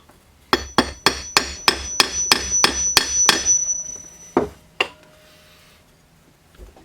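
Sharp metallic taps strike the stationary jaw of an old W.C. Toles No.65 iron work vise during restoration, about ten quick evenly spaced hits ringing close and clear, then two slower final taps with a faint lingering ring.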